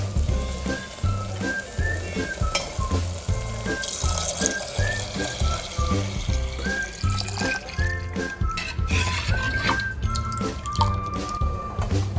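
Liquid is poured into roasted masala in a pot for amti, making close, uneven splashing and gurgling with drips and trickles throughout, with no voices.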